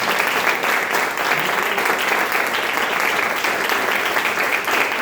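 A church congregation claps in loud, sustained applause during a worship service, a dense unbroken wash of many hands lasting several seconds without talk.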